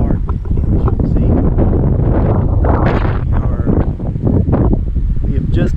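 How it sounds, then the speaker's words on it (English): Strong wind buffets the microphone in loud, rumbling gusts in the windy foothills of Wyoming, with a voice faintly mixed in beneath the roar. "we are in the windy foothills, I would say, here in Wyoming"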